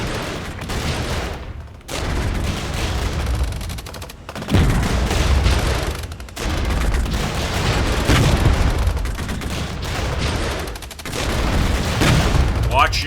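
Anti-tank fire and gunfire in a Regiments Cold War real-time strategy battle, with rolling volleys, booms and crackling shots in long surges broken by brief gaps, and someone talking over the combat at times.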